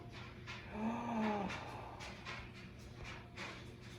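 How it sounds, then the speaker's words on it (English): A puppy gives a short, thin whimper partway through, rising over a steady background hum in an indoor room, with no talking during the sound. "Is it a puppy? It is. Your very own puppy."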